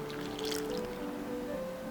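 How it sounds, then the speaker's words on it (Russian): Cold water, about 300 ml, is poured into a bowl of flour and salt to make samsa dough, giving a soft, close trickling and splashing that lasts under two seconds. "Сюда же добавляем 300 миллилитров холодной воды"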